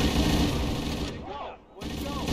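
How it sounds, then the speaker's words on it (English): Dense rattling gunfire and blasts from a Garry's Mod battle between Halo marines and Doom NPCs, loud and continuous, briefly dipping to a hollow lull before the din resumes. "Oh, that's an explosion."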